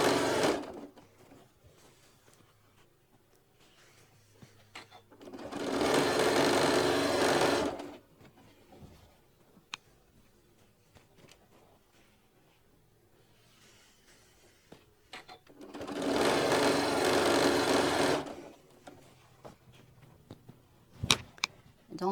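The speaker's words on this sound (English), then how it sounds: "Doing this, there's going to be a lot of stitching" Two runs of a sewing machine stitching quilt strips, each lasting a few seconds, fairly close and steady, separated by quiet pauses with small handling clicks and a sharp tap near the end.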